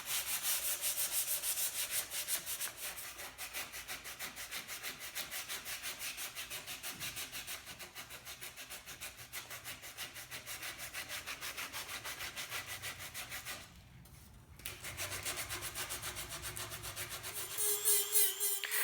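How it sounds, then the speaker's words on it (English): Sandpaper held on a foam block or by fingers rubs back and forth over the curved volute of a wooden neck for a seven-string multiscale guitar, a continuous close scratching that pauses briefly before resuming. "Sanding around complex curves like the volute can be a bit of a challenge, and I'll use that foam block"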